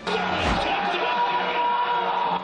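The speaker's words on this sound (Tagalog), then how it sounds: "Malakas na hiyawan ang sinalubong ng fans ni Ja Morant ng Memphis Grizzlies sa kanyang unang pagbisita sa Pilipinas." Filipino basketball fans shout and cheer loudly as NBA star Ja Morant of the Memphis Grizzlies arrives in the Philippines. A burst of whoops and yells rises from a close crowd and holds for a couple of seconds.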